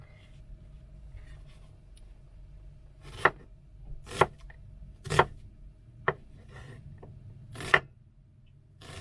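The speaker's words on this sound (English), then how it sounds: "next, we will be slicing." A knife slices thin vegetable pieces on a cutting board, giving about five crisp, separate chops spaced roughly a second apart, close and fairly loud over a quiet background hum.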